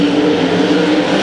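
Sprint cars race on a dirt oval during a spring classic heat, a dense continuous engine roar of several cars droning together, loud and unbroken.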